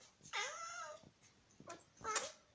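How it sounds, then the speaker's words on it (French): A cat gives three soft, short meows with small pauses between them, close by in a quiet room. "des fois elle miaule fort, des fois elle miaule tout doucement"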